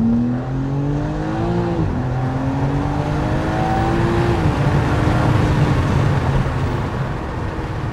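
A car drives along with a close, steady engine drone inside the cabin; the engine pitch dips and recovers as it slows and picks up again, with no talking.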